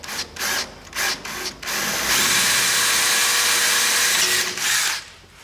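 A power drill runs a 3mm pilot hole into an aluminium boat hull, starting with several short bursts, then a steady whine for about two seconds before stopping with a final brief burst; close and loud with no talking.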